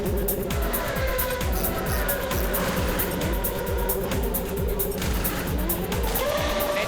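A1GP race cars in a busy pit lane during the first round of pit stops, engines revving loudly and tires squealing in a continuous, dense roar without pause.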